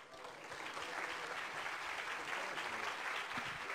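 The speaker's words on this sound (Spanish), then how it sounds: "Un fuerte aplauso, Alex Soljovich" An audience applauds at a formal event honoring a guest for social responsibility work, a steady dense clapping sustained throughout, moderately distant and fairly soft.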